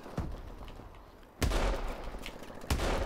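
Sniper rifle shots in Call of Duty: Advanced Warfare: three loud, sharp cracks spaced about a second apart, each followed by a lingering rumbling tail, with no talking over them.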